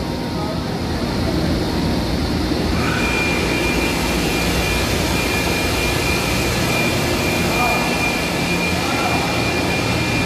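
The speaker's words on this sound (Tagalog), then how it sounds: "ilalagay ng grasa kasi maingay itong isang lip pump" A noisy lip pump motor at a filter plant, running dry of grease, gives off a loud, continuous droning roar with a steady high whine layered on top.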